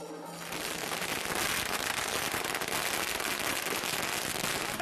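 A long string of firecrackers bursts in rapid, continuous crackling at a political party welcome ceremony, loud and dense, with no pauses across the whole stretch.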